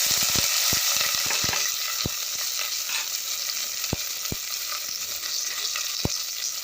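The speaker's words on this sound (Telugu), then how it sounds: "చక్కగా జీరా మనకి చక్కగా ఆయిల్లోని ఫ్రై అవ్వాలి కొంచెంసేపు" Cumin, onion pieces, curry leaves and green chillies frying in hot oil, with a steady close sizzle and crackle and scattered sharp clinks of a spoon stirring against the pan.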